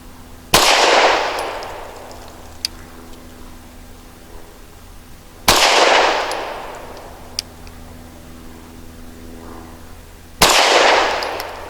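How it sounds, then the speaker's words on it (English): A Taurus G3 pistol fires at a target outdoors: three loud, sharp shots spaced roughly five seconds apart, each with a short ringing decay and a faint metallic clink afterward. "We'll be shooting at target number 1."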